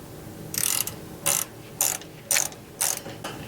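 Ratchet wrench tightening a steering damper bolt on a P32 Workhorse motorhome chassis, five quick bursts of clicking spaced about half a second apart, close and fairly loud with no talk.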